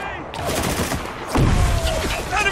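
Bursts of gunfire in the video game Spec Ops: The Line, with rapid automatic shots and a loud close burst midway, mixed with battle ambience and voices shouting over the fight.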